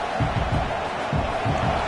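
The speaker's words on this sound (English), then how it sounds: "This crowd trying to make life miserable for this offense." A football stadium crowd roars in a dense, steady wash of noise, with low rhythmic thumps pulsing underneath throughout.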